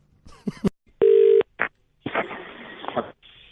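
A telephone keypad beeps as a number is dialed, one long steady tone standing out among short bursts, with brief stretches of voice and noise between the tones.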